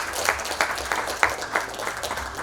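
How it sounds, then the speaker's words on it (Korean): An audience at a forum session in Jeju applauds steadily for a couple of seconds. The clapping comes from a hall crowd and is moderately loud, with no voices. "큰 박수 부탁드리겠습니다."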